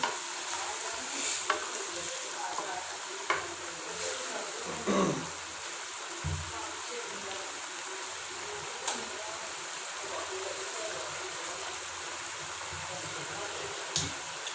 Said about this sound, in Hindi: साथ ही हम इसमें ऐड कर देंगे कुकिंग ऑयल और इसकी भुनाई करेंगे।